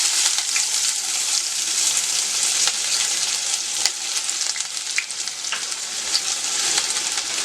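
Chopped onions fry with cumin and asafoetida (hing) for Malwa dal, a loud, dense, continuous sizzle with scattered pops and crackles, no speech.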